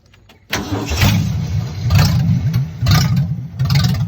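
A rebuilt 1965 Ford Mustang 200 inline-six cranks and fires up after a short pause, then holds a loud, steady fast idle with a throbbing low rumble and periodic surges for several seconds.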